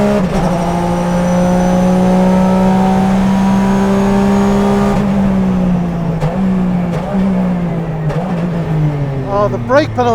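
Porsche 996 GT3 RSR race engine droning loudly at steady revs, then dropping with sharp throttle blips on downshifts, close and continuous with brief talk over it.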